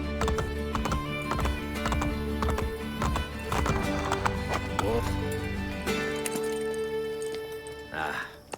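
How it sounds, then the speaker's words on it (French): Horses gallop with rapid clip-clop hoofbeats in Assassin's Creed Brotherhood, a dense close rhythm with a neigh near the end, mixed with game music and faint keyboard clicks. "Ces chevaux sont trop rapides pour moi."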